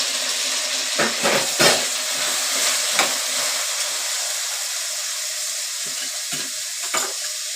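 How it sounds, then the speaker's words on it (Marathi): Onion and vegetables for soybean biryani hit a hot pan with a loud, steady sizzle, while a spoon stirs through them in several scraping strokes. "कांदा टाकला या सगळ्या भाज्या टाकणार एक सगळ्या भाज्या एक साथ टाकायच्या"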